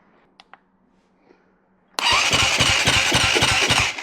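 After a couple of faint clicks, a dirt bike's small engine abruptly starts cranking over loudly, a rapid rhythmic chugging that continues steadily up close.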